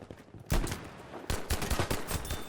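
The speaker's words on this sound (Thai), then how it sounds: "เจอศัตรู มีเสียงปืนอยู่ด้านหน้าเราด้วยนะครับ มันใกล้มาก ๆ" Enemy gunfire in the shooter game Battlefield V, a series of sharp, close shots and short bursts that crack loudly and repeat irregularly after a brief quiet opening.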